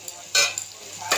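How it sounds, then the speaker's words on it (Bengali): Partly cooked food being stirred in a pot, two short scraping bursts of utensil against metal separated by a quiet pause, close and moderately loud. "এবার এটাকে আমি ভালো করে নেড়ে চেড়ে ঢাকা দিয়ে দেব।"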